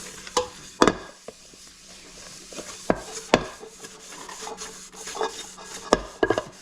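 Scrubbing a frying pan clean: a soft scraping rub with scattered sharp knocks and clanks of metal against the sink, close by and irregular.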